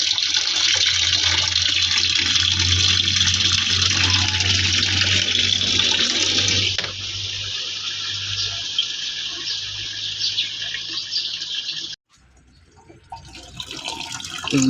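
Water pours steadily into the tub of an automatic washing machine during a deep tub cleaning, a loud, continuous rushing hiss that drops in level partway through and briefly cuts out near the end before resuming.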